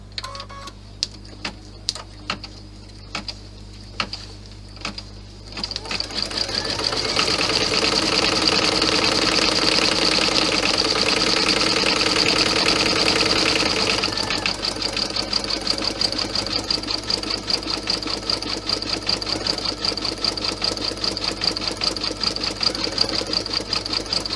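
An embroidery sewing machine satin-stitching a Santa bag design: sparse needle clicks at first, then a steady rapid mechanical whirring and tapping that runs on loudly and close.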